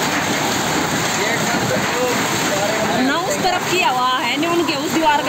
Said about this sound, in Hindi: और देखो आंधी तूफान देखो कितना जोर का है